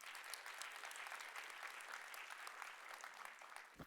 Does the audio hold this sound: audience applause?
yes